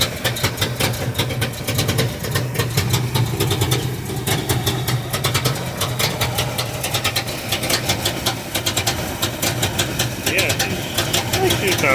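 V8 car engine fitted with a Comp Cam 270H cam and air gap intake, idling with a steady lumpy, loping chop throughout, close and loud, with a voice talking over it.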